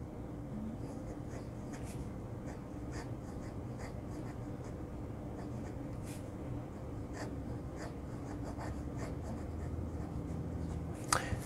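A Delike Alpha fountain pen with an extra fine nib writing on paper, faint scratchy strokes in short irregular bursts over a quiet background.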